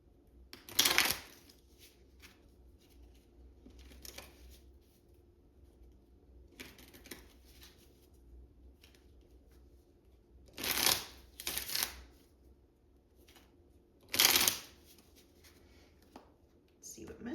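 A homemade oracle card deck is shuffled in several sharp, riffling bursts spread across the clip, separated by quiet gaps with faint handling sounds.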